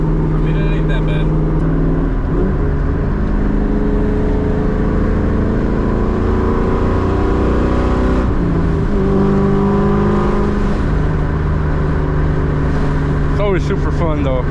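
A straight-piped 2003 Mustang GT V8 revs and accelerates with a loud, raspy, rumbling exhaust note that rises and falls, then surges again near the end.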